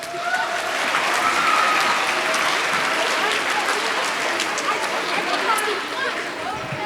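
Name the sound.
audience applause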